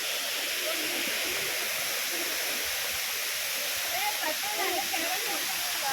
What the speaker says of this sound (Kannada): ಸೌಂಡ್ ಕೇಳ್ತಾ ಇದೆ, ಹತ್ರನೇ ಇದೆ ಗೈಸ್. ಇದೆ ಸಿರಿಮನೆ ಫಾಲ್ಸ್.